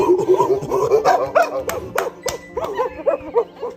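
A blind dog yips, whimpers and barks excitedly on reuniting with its owner, with a rapid string of short, high, emotional cries close by.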